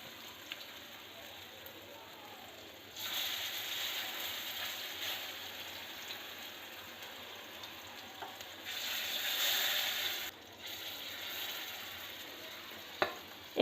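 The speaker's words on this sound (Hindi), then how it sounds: "तेल गर्म हो चुका है तो अब मैं इसमें मछली डाल दूँगी तवे पर।" Rohu fish pieces sizzle in hot oil on a tawa, starting suddenly with a steady crackling hiss that fades down and then swells again, fairly quiet with small clicks near the end.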